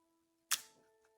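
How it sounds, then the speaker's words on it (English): A single sharp mechanical click of a Kodak Vollenda folding camera's shutter, followed by a brief rattling decay and a faint second tick, over a quiet electrical hum. "Open up shutter."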